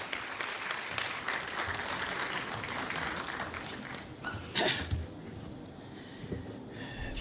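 Audience applause at a formal event in Lüderitz, a steady, fairly quiet patter of many hands clapping, with a brief louder burst near the end.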